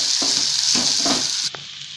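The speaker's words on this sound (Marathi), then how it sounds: "2 मिनिट चांगलं हलवून परतून घेऊया" Crushed peanut mixture being stirred and sautéed in a hot pan, a loud, continuous sizzle with soft rhythmic spatula strokes that drops away abruptly near the end.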